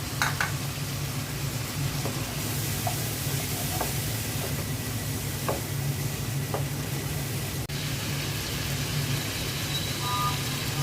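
Shrimp fry in a pan with spice paste, giving a steady close sizzle and hiss under faint clinks and stirring taps; no one speaks.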